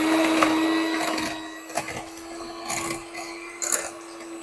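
A sugar mixture for an orange cinnamon roll spread is whisked in a bowl, producing a steady mechanical hum under irregular scraping clatter, close and moderately loud.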